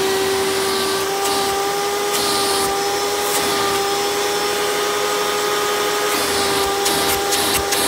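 A Hoover Runabout Deluxe U5064-930 upright vacuum cleaner runs with its hose attached, a steady close motor whine with a sustained tone and airy rush, occasional slight shifts as the hose moves, no talking.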